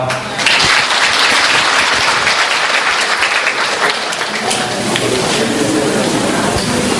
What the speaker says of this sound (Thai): เสียงประมือต้อนรับวิทยากรเวทีเสวนาทั้ง 10 ท่านด้วยครับ